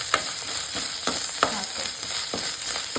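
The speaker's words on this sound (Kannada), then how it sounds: "ಇದಕ್ಕೆ ಈಗ ಸ್ವಲ್ಪ ತುಪ್ಪವನ್ನು ಆ್ಯಡ್ ಮಾಡುವ. ಶುಂಠಿ ಬೆಳ್ಳುಳ್ಳಿ ಪೇಸ್ಟ್ ಹಾಕುವ." Ginger garlic paste frying in ghee for a dhaba-style egg keema, a steady crackling sizzle with scattered pops and a few stirring scrapes close up, no voices.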